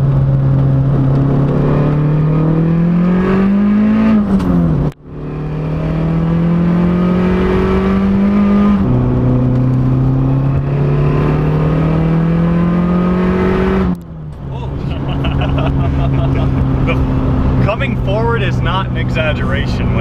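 A 550 wheel-horsepower big-turbo Saab 9-5 with an open differential accelerates hard. Its engine drone climbs steadily through three loud, close pulls, with a brief dip at each gear change.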